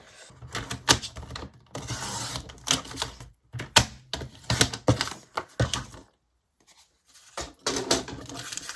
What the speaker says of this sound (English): And yet again, out with the paper cutter.